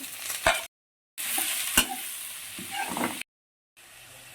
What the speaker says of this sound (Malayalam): ഇനി നമ്മൾ ഉപ്പ് കൂടെ ഇട്ട് സവാള നല്ലതായിട്ട് മെഴുക്കിയെടുക്കും